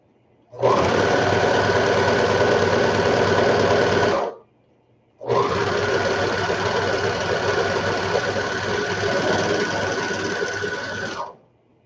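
A sewing machine stitches fabric for kids' lounge pants in two long continuous runs, the first about four seconds and the second about six, separated by a short pause, with a steady whir close by.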